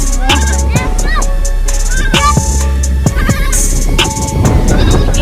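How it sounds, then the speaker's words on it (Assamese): Goat kids bleat repeatedly in a green rural field near a river, with several wavering, close calls overlapping a steady background murmur. "ছাগলী পোৱালি থাকে।"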